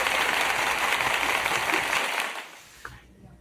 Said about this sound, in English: That deserves a hand clap, guys